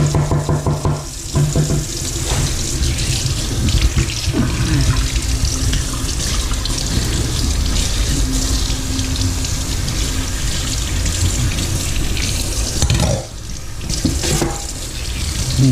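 Tap water pours steadily into a kitchen sink while a bass is being cleaned and filleted, a continuous loud splashing rush with a few brief clatters and shifts in the flow.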